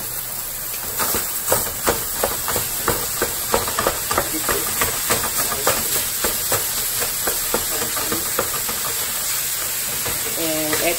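Ground beef sizzles in a hot pan with onion and minced garlic: a steady close hiss broken by frequent crackling pops and spits throughout.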